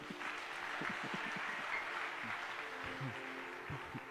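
A congregation at a church deliverance service claps in acclaim of Jesus, a faint, steady patter of many hands throughout, distant and low in level.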